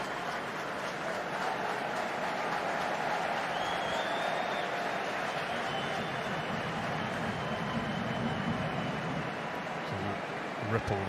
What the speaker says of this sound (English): Ripple of applause as Ange Postecoglou has sent the first batch of substitutes out for a warm-up.